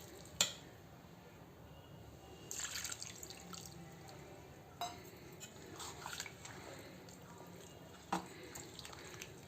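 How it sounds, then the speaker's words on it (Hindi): Water poured into a semolina (sooji) batter while mixing it for an easy, healthy recipe, heard as soft drips, splashes and squishy stirring close by, with a couple of sharper taps. "एहिमे हम और पानी रखबै।"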